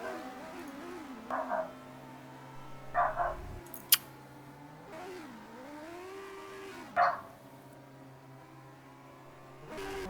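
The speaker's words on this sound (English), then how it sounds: "Must apologise for the dog barking" A dog barks and whimpers a few times in short bursts over a low engine hum from a Formula racing game, with quiet gaps between the yelps.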